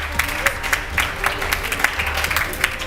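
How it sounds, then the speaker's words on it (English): An audience at a school debate or competition on Nigerian education claps in a steady, rhythmic pattern, a fairly close run of regular hand claps under a faint background murmur. "I want the audience there to really applaud these ones for me."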